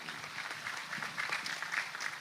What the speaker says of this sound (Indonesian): Tepuk tangan ke Pak Bupati.